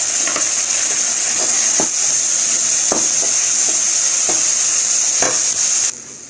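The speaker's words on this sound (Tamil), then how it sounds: "வெங்காயம் நல்லா துவல வதங்கணும் ஃப்ரெண்ட்ஸ்." Onions and tomato sauté in a pan, giving a loud, steady close-up sizzle broken by regular scraping stirs, with no voices.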